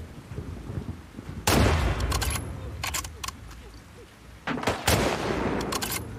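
Gunshots in The Last of Us Part II, a few sharp loud reports spaced seconds apart over rumbling ambient game noise, with no talk.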